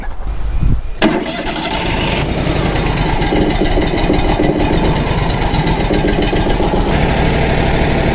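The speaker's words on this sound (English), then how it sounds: "Engine's still purring like a kitten." A sawmill engine cranks and catches after a brief pause, then runs steadily at a loud, even idle with a rough mechanical rumble.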